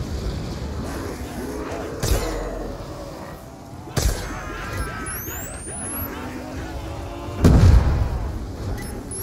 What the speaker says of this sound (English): Those rats could not have survived the explosion.